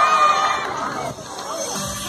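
Children at a Sinterklaas arrival event at a school cheer and shout for the fire brigade, a lively mixed crowd of young voices with some clapping and adult talk, loud at first and easing slightly before rising again.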